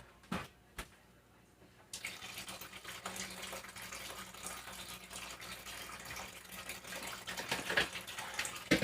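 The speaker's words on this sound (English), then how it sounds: "I'm getting some water to put in my pot." Tap water runs steadily into a cooking pot in a home kitchen, starting after a short quiet moment and continuing as an even, close rushing splash to the end.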